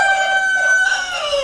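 A rooster crowing at close range, a single drawn-out cock-a-doodle-doo with a bright, strained tone that falls off at the end.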